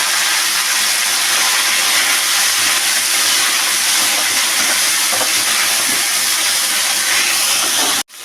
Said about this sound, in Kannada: ಇವಾಗ ಬೇಡಿಗೆ ಮೆಣಸಿನ್ಕಾಯಿ, ಪುದೀನ, ಕೊತ್ತಂಬರಿ ಸೊಪ್ಪು ಎಲ್ಲ ಒಂದೇ ಸತಿ ಹಾಕಿಬಿಡ್ತೀನಿ